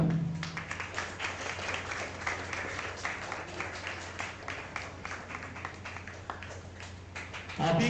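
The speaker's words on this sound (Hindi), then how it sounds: "तो ताली में कंजूसी नहीं और साइकोलॉजी का पावर दिखना चाहिए ताली में" Audience applause for the head ma'am at a special lecture on stress and mental health at the workplace: dense, steady clapping from a large crowd, filling the whole stretch at an even level before it thins out at the end.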